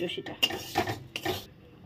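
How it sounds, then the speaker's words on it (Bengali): Chushi rice-flour dumplings go into a pot of boiled milk with a few short clinks and scrapes of a utensil against the pot, close by and brief. "চষিটা ঢেলে দিলাম"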